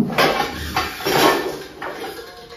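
Metal kadhai pans and a pressure cooker being handled, with three loud, close clanks and scrapes of metal cookware in quick succession.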